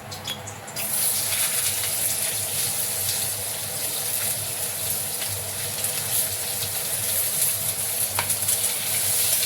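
Onion sizzles and fries steadily in hot oil in a wok for a jackfruit chili dish, a loud, continuous crackling hiss with faint scraping stirs, no voices.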